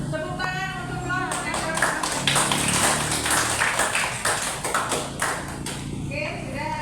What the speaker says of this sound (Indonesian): Anak-anak, tepuk tangan untuk Lord.